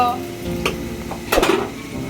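Cauliflower goes into a pan of frying onions for vegetable noodles, bringing a close, steady sizzle with a few sharper bursts of spattering and scraping, and no speech.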